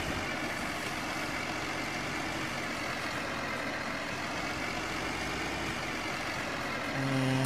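A tractor engine in Farming Simulator 2013 drones steadily throughout, a continuous rumbling idle with no talking, rising slightly in level right at the end.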